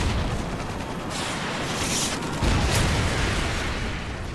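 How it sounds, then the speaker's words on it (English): Predator missile strike explosion in Modern Warfare 3: a loud, sustained rumbling blast with crackling debris and a stronger boom surge about halfway through, then a continuing roar. "Predator missile inbound."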